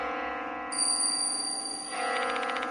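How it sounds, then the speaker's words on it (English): A bell rings in the horror video game Spirit Hunter: Death Mark II, entering as a sustained, high, clear tone partway through and lingering over a low, steady ambient drone. "Where's this bell sound coming from?"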